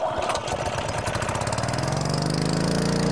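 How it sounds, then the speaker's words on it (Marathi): A petrol generator engine converted to run on biogas drones steadily nearby, a loud, continuous mid-pitched motor hum with a rhythmic throb that holds without pause. "आम्ही हा पेट्रोलवर चालणारा जनरेटर विकत घेतला आहे आणि त्याला बायोगॅसवरती आता आम्ही करतो आहोत"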